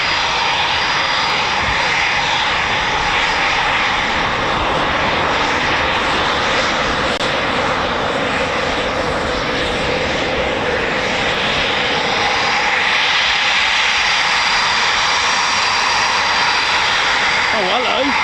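Eurofighter Typhoon FGR4 jet roaring loudly and continuously at RAF Coningsby, a broad sustained engine rumble and whine filling the whole stretch, with faint voices at times underneath.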